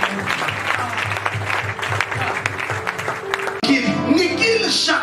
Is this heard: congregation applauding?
yes